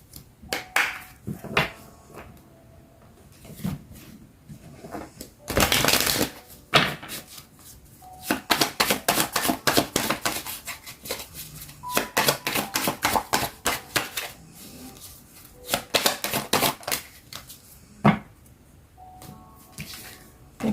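Tarot cards shuffled by hand make close, crisp bursts of riffling and flicking that come in uneven clusters, with quiet pauses between the runs.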